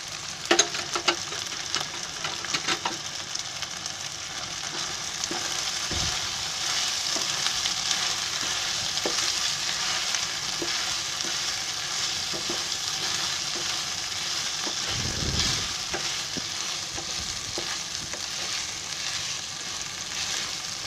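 Tomatoes and green chillies sizzling and frying in a pan for a Konkani mutton biryani masala, a continuous close crackling hiss with occasional stirring clatters and scrapes, no talk.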